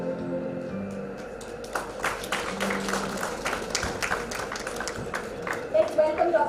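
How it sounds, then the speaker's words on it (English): Applause from a conference audience welcoming a speaker, a dense steady patter of many hands clapping at moderate distance, continuing throughout with some talk mixed in. "Let's welcome Dr. Saini with a huge round of applause."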